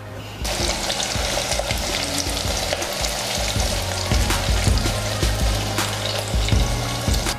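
Peeled onions hit hot oil and burst into a loud, sustained sizzle with crackling pops and clinks close by, following a brief quieter moment at the start. No one speaks.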